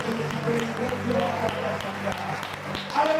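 A church congregation applauds during a Sunday morning service, steady clapping spread through the room with sharp individual claps standing out, heard over a sustained low musical hum.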